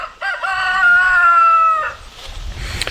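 A rooster crows loudly and close by in a homestead chicken run, one long drawn-out call that fades into quieter background sounds from the hens.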